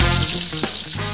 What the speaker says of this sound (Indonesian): Kalau si ayam penyet, ayamnya kita goreng dulu sampai garing.